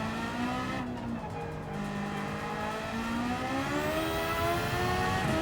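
A high-revving race car engine in Gran Turismo 7 spins near 12,000 RPM with a motorbike-like whine, holding steady and loud throughout while the pitch drops and climbs through gear changes.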